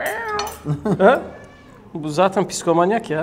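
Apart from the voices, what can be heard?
cat meowing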